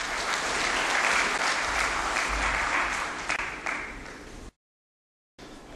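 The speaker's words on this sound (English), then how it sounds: "Please give him a big round of applause." An audience at a finance conference claps in a dense, sustained round of applause that fades, cuts to silence for about a second, then briefly resumes.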